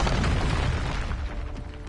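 A deep, booming magical blast from the Expulso spell in a Hogwarts video game, a single loud low-heavy explosion that rumbles and slowly fades over about two seconds.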